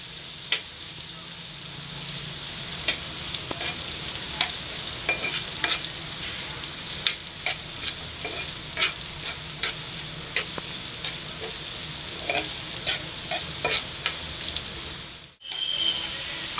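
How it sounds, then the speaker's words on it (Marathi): Ingredients sautéed in oil in a pan for a spicy egg half-fry, giving a steady close sizzle broken by frequent scraping stirs and one brief pause near the end. "व्यवस्थित तेलात परतून घेऊया"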